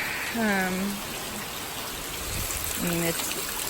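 Heavy rain pours in a steady, dense hiss onto a house under renovation with workers on the roof, with a voice speaking briefly twice over the downpour.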